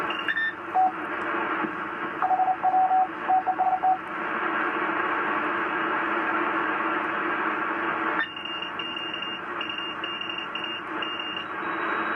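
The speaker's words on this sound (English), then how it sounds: "Morse code." Morse code tones received on an ICOM IC-R7000 communications receiver, steady carrier beeps sounding over a continuous hiss of radio static, with a shift in tone partway through.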